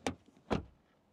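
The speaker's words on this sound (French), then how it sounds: "le bruit de fermeture de la porte" A door on a 2024 Kia Sorento facelift shuts twice in quick succession, each a short solid thud close by and fairly quiet, with no talking.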